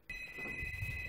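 A telephone rings with a steady electronic tone that starts almost at once and holds throughout, fairly loud against a low background rumble, with no talking.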